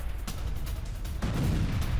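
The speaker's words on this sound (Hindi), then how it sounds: "रूस के इलाकों में भयंकर धमाका" News footage of an explosion and fire at an electrical substation in Rostov, Russia: a dense, noisy rumble with sharp booming bursts, one near the start and a stronger one midway, followed by a sustained roar, with no talk.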